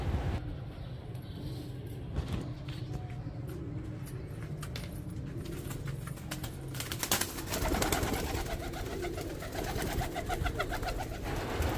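Several baby teddy pigeons taken out of the nest, with soft cooing and bird calls heard among steady broadband background noise and occasional handling clatter throughout.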